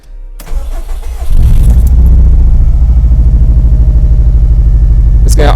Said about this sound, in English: Okay, let me go ahead and fire this thing up.